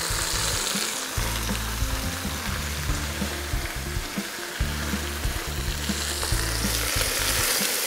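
Thinly sliced onion sautéing with browned veal tendrons in a pan, a steady sizzle over a low, uneven rumble with occasional stirring sounds, no voices.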